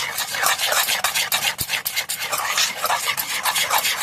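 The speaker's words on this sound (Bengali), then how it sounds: "একটুখানি সামান্য ইনোতে জল দিয়ে দেবো, এবারে ভালো করে ঘেঁটে নেব।" A spoon briskly stirs Eno fruit salt into water for semolina idli batter, making a continuous close scraping and rubbing sound with quick rhythmic strokes.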